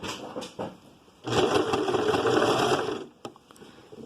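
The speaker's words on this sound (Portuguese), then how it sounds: "E vou começar a fazer a costura reta aqui." Sewing machine running a straight seam on soft fabric for a child's trousers: a few short stitching taps, then one steady close whirring burst of about two seconds, followed by brief clicks.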